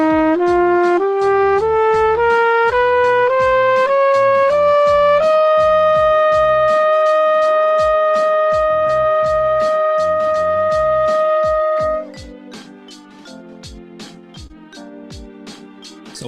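A trumpet plays a practice exercise beginning on high F, climbing step by step to a long held note, then dropping to a lower sustained tone over a steady ticking beat, loud and close.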